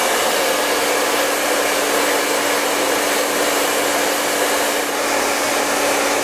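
A hair dryer blows steadily and loudly at close range throughout, a constant airy roar with a faint whine as hair is blown out over a round brush.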